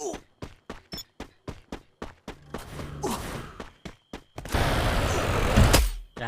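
Rapid gunfire from an SC8 weapon in a multiplayer shooter match with 23 players left: a fast, evenly spaced string of loud sharp shots, then a dense, roaring burst of firing and impact noise.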